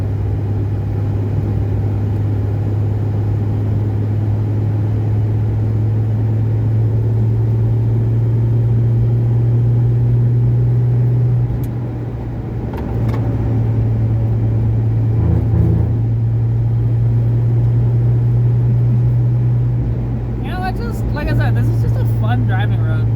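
A 1981 Fox body Mustang engine droning steadily from inside the car on a rolling, twisting road, holding a low hum with brief dips as it shifts, while someone talks over it.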